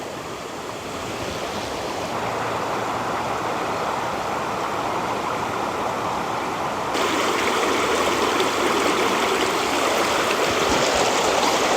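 Spring water from the Umbulan source rushing steadily along a stream by rice fields, a continuous broadband wash that grows slightly louder partway through, close and even with no voices.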